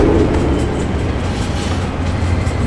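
Speeding train in the Spider-Man 3 video game: a loud, continuous roaring rumble of rail movement with faint rhythmic rattling, steady throughout with no speech.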